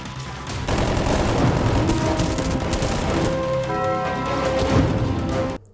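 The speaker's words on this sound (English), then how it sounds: "the gun that Arceus has is coming in handy" Gunfire from a gun in a Russian superhero movie, a loud dense rapid burst of shots lasting about five seconds, mixed with a rising tonal whine, then cutting off abruptly.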